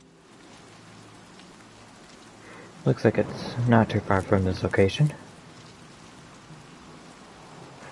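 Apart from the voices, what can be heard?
rain in a video game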